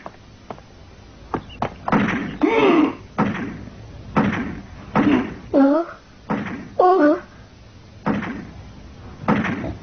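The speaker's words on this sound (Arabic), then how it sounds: "لنستعمل أجسادنا ونحطم الباب" Cartoon characters ram a wooden door with their bodies, giving a series of heavy thuds and slams at irregular intervals, mixed with excited voices talking and shouting.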